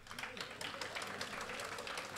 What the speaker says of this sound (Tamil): அந்த கருப்பு சட்டை அவனுக்கு ஒரு கைத்தட்டு கொடுங்க